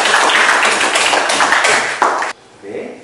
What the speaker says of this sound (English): Okay, give applause for us.